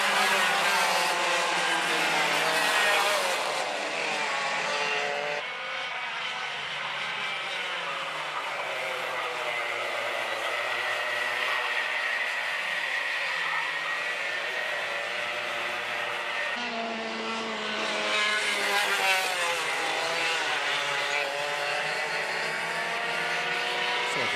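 Race cars in qualifying at Shenington circuit, engines wailing past in two loud sweeping passes, the pitch rising and falling as each car approaches and fades, with a steady engine drone between.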